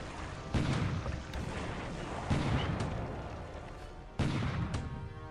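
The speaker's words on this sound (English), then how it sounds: "More naval bombardment here" Naval bombardment artillery fire in a Pacific war strategy game set in December 1941, three heavy booms spaced about two seconds apart, each with a long rumbling decay over a steady background roar.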